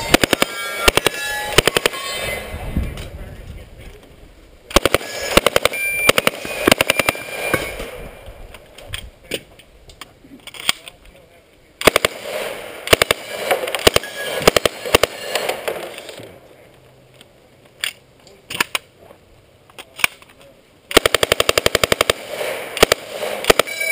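Submachine guns fire on a stage of a Michigan State subgun shooting competition. Loud, close bursts of rapid automatic fire come in clusters separated by brief pauses between strings.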